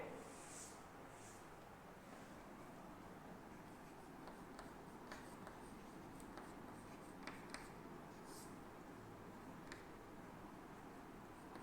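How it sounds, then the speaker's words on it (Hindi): Chalk or marker writing a Hindi grammar definition on a classroom board produces faint, intermittent scratchy strokes and taps over a quiet room hiss. "चलो उसकी परिभाषा लिखते हैं हम यहां पे।"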